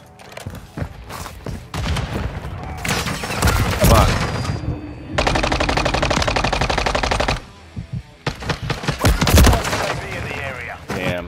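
Rapid automatic gunfire in Call of Duty MW3 multiplayer on PS5, loud sustained bursts separated by short gaps, with single shots and sharp impacts in between.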